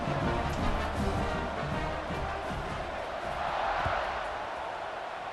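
Stadium crowd roar in the College Football 26 video game before a kickoff, a dense, steady wash of cheering that swells slightly and fades, with no clear voices standing out.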